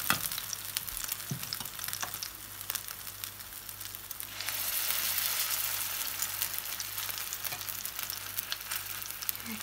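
Small potato pancakes (draniki) frying in heated oil in a pan, a continuous crackling sizzle that swells into a louder hiss midway, close and with no one talking.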